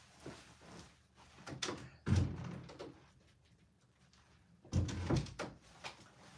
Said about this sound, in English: who's trying to get in the door now?